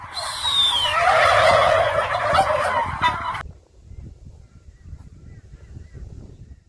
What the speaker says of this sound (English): running into a flock of turkeys like this would be the biggest nightmare because of all the noise